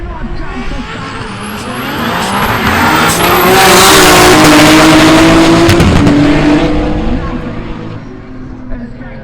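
GT-R race cars and a Nissan March launch from the start at a New Zealand track festival, engines roaring loudly together with rising revs that swell and then ease off, while a commentator talks over them.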